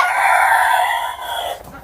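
Sonali breed chickens on a poultry farm let out a loud, drawn-out rooster-like crow up close, fading toward the end against a steady farmyard background.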